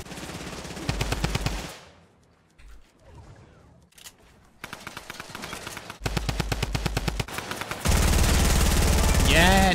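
Rapid automatic gunfire during a Fortnite Summer Skirmish match, loud bursts of shots broken by a short quiet gap and a few single cracks, ending in a dense sustained volley, with faint voices in the background.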